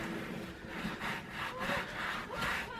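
Cloth or brush rubbing over a suede handbag to wipe off excess cleaner, in steady repeated strokes up close, one swipe roughly every half second, with no speech.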